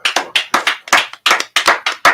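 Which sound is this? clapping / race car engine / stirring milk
clapping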